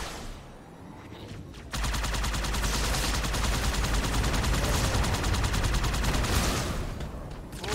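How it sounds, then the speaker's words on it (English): Gunfire during a Halo 2: Anniversary battle against an enemy sniper: after a short quiet lead-in, a loud, sustained run of rapid, closely spaced shots continues almost to the end. "What the hell are you shooting me with up there? It's a damn sniper rifle."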